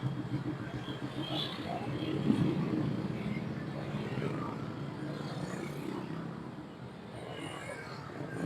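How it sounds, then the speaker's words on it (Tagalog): Road traffic of cars and motorcycles passing beside a cemetery, a steady engine rumble and whoosh of vehicles going by, with someone talking intermittently over it. "Daming sasakyan talaga, daming talagang motor sa gilid."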